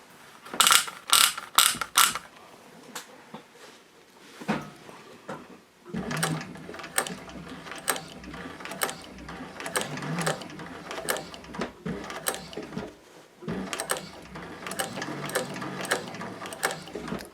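A Techsew 4800 Pro sewing machine stitches in rapid mechanical bursts with ratcheting clicks, pausing briefly between runs, including a short backstitch, close and moderately loud.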